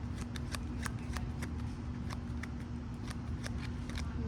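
Tarot cards being shuffled by hand at close range, a steady run of crisp riffling clicks and slaps at an irregular rhythm over a low constant hum, with no voices.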